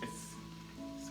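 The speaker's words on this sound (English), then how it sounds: "I'm still sauteing, still mixing it in" Ackee and saltfish ingredients are sautéed and stirred in a pot, producing a soft, steady sizzle with faint scraping, fairly quiet and close.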